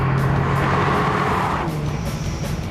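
A Ford Sierra RS Cosworth revs hard and accelerates in a steady, loud engine roar that climbs in pitch, then shifts tone partway through, close and continuous with no talk.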